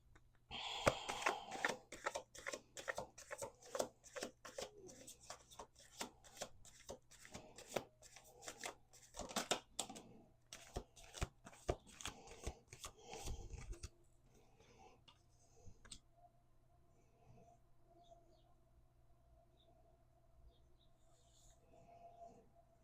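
A deck of playing cards shuffled by hand on a table, rapid riffling bursts repeating for about fourteen seconds, close and crisp, then near silence with faint ticks.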